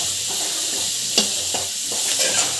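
Ginger sautéing with sauce in a hot pan gives a continuous bright sizzle, broken by a few sharp stirring clicks and scrapes at close range.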